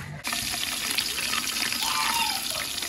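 Steady rushing water patters and drips nonstop after a brief quiet start, sounding like rain pouring down close by onto an umbrella set up over outdoor cooking.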